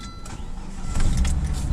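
A car engine being fired up ahead of an engine oil flush cranks and then rises into a building rumble over under two seconds, close and fairly loud.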